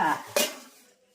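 A solar cooker's metal box clinks and scrapes briefly up close, with one sharp clank, then the sound fades away.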